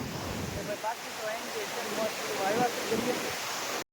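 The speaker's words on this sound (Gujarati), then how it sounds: "એ પાળની ઉપરથી અત્યારે ફૂલ પાણી વીરું છે ને બધું જાય છે દરિયામાં" Broad steady rushing of water pouring over a dam embankment and flowing into the sea, a continuous near roar with a soft gurgling texture and no talk.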